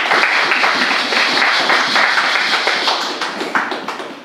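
A church congregation applauds steadily during a French-language sermon, a dense wash of clapping that stays loud and even from start to finish.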